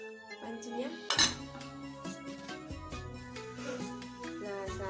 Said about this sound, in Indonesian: Saya mau tutup dulu pancinya.